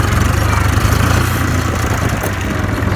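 A Case IH 395 tractor engine runs steadily close by during a test drive, a loud, even low rumble that holds for the whole stretch with no talking.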